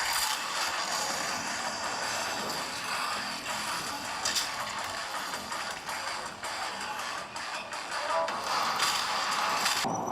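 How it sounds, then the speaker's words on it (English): An MSI Prestige 16 laptop's cooling fan running under a gaming load gives a faint, steady airy whoosh with slight flutter, heard close with no talking. "How about you guys just take a listen to the fan itself?"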